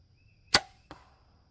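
A sharp, quick thwack of a broadhead arrow striking a target, followed a moment later by a softer second impact; otherwise near silence.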